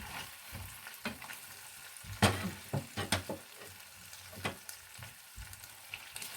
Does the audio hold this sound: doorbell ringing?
no